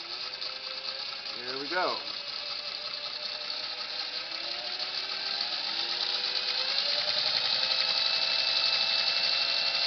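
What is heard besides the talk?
Singer Model 301A sewing machine sewing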